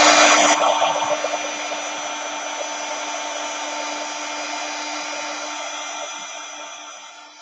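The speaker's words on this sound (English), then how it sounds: "I'm going to hit that a little bit with the heat tool." A craft heat tool blows a steady, even whoosh over a tea bag craft piece, strongest at the start and then holding level before slowly fading out.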